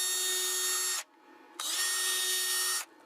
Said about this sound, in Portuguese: parafusar uma pecinha para segurar